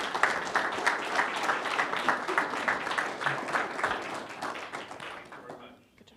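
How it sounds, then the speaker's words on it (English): A classroom audience claps for a student congress presentation, a loud round of many hands with distinct slaps that fades out near the end. "let's give a round of applause"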